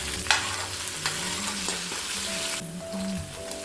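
Chopped ginger and green chillies hiss and crackle in hot oil with urad dal, a steady close sizzle with light stirring clinks and scrapes, no voices.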